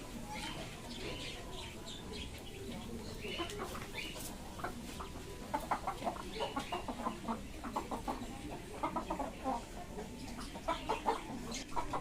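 A rooster and hen pair kept in a cage cluck close by in repeated short bursts, growing busier toward the end, with a person talking over them.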